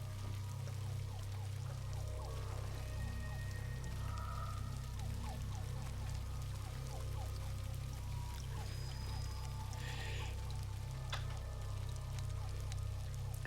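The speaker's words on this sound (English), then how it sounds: "Oh, just the ambience of the rain." Rain ambience in a dense swamp level with big twisty trees in the video game Halo Campaign Evolved, a steady soft patter and trickle of water running throughout with a low constant rumble beneath and no voices.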